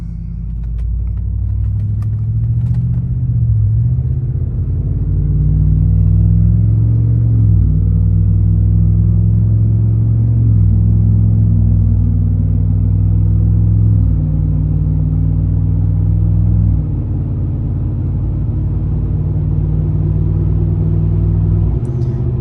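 Interior cabin rumble of a leveled Trail Boss truck pulling away and cruising on brand-new 35-inch X comp tires, a steady low road and engine drone that swells slightly with acceleration and holds throughout, with no talking.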